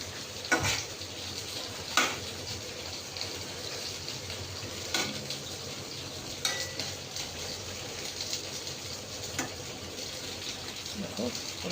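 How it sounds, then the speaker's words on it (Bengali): Pointed gourd (potol) fries in a hot pan, a soft, steady sizzle with occasional louder clinks and stirring scrapes at intervals, faint overall and without talk. "একসাথে পটল ভাজছি।"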